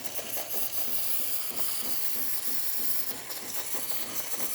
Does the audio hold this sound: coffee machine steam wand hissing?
yes